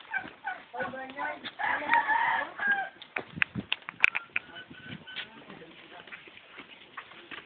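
A flock of turkeys gobbles and clucks nearby in overlapping bursts, with scattered squawks and calls continuing at a moderate distance.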